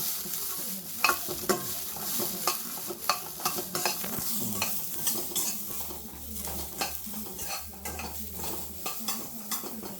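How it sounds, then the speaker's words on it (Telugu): Peanuts and fenugreek seeds dry-roasting in a pan while being stirred, giving a continuous scraping, rattling stir with light sizzling and frequent clinks of the spoon against the metal, close and steady, with no voices. "కొంచెం మెంతులు కూడా కలిపా, అవి కూడా వేగుతాయి కొంచెము."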